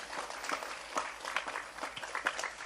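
Applause from a religious gathering audience at an Islamic sermon, scattered claps rising and falling at moderate distance, fairly faint and unaccompanied by talk.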